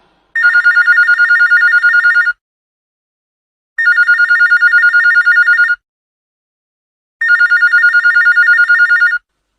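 An old landline telephone bell rings loudly in three evenly spaced bursts, each about two seconds long, separated by silent gaps, with no voices.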